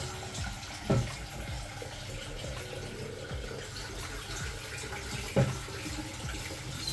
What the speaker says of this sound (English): Let me put some water in this before it start getting sticky.